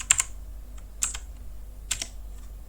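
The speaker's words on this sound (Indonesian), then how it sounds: "sekarang kita tinggal mengetikkan saja Jupyter Notebook." Keys on a computer keyboard are typed in three short quick clusters of crisp, close clicks over a faint low background hum.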